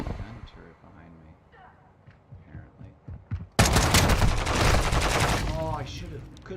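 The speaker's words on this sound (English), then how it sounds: "Oh, there's a freaking gun turret behind me." A gun turret in Call of Duty: Modern Warfare II opens up in a sudden loud, sustained burst of rapid automatic fire that follows quieter game sounds and a voice.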